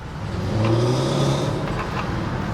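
An old project bakkie pickup truck's engine revs on a first test drive, a smooth building drone that swells and eases off over a couple of seconds, loud and close from inside the cab.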